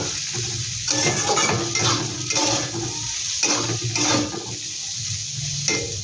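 Green chillies fry in a pan with a steady close sizzle, punctuated by repeated scraping and clinking of a spatula stirring against the metal.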